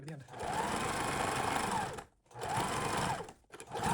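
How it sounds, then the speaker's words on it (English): Stitching a sweatband onto a hat on the free arm, a sewing machine hums in close, steady bursts separated by two brief pauses. "I made my first pass at sewing the band onto the hat"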